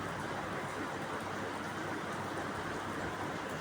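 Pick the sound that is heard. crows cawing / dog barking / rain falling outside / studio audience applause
rain falling outside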